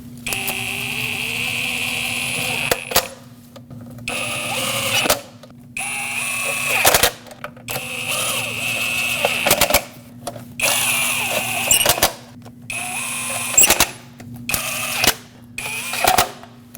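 Intermittent mechanical whirring from tightening bolts on the intake VVT solenoid of a 2006-2015 Lexus IS250, coming in repeated bursts of a few seconds separated by short silences, over a steady low hum.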